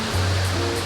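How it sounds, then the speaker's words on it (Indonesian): Bidadari waterfall near Pasuruan, East Java, roaring as a steady, loud broadband rush of falling water with a low rumble, continuous and close throughout. "Look at this waterfall."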